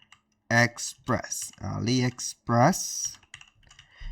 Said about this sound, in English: Click on the search bar right there and simply type AliExpress